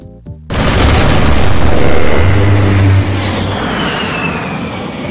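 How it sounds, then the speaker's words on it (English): An A-10 gun run strafing attack: after a brief lead-in, a massive continuous roaring burst of gunfire erupts, loud and sustained for a few seconds, then a jet engine roar lingers and fades with a descending whine. "it's the infamous A10 gun run. Just a minigun dragged along a piston with a steroid attachment"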